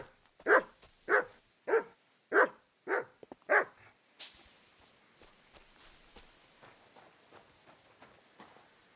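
Dog barking in the medieval video game Kingdom Come: Deliverance II, six evenly spaced sharp barks at moderate distance, followed by faint scuffling and ambient sounds with no talking.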